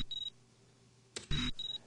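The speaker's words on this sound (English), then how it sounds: "and we get a little beep." Two pairs of short, high electronic beeps in a video game, each quick double chirp separated by a soft thud, in an otherwise quiet setting.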